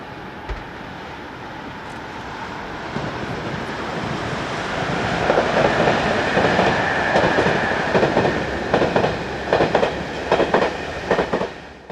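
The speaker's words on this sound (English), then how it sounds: "Others are locomotive hauled, as in this Class E444 operated service heading south." A Class E444 electric locomotive hauling a southbound passenger train passes with a broad, steady rumble that swells and stays loud, wheels clicking rhythmically over rail joints as the carriages roll by.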